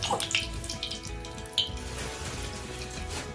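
Water is splashed into a kadhai on a wood-fired clay stove, a steady close-up gush and patter that briefly swells before settling into a continuous flow.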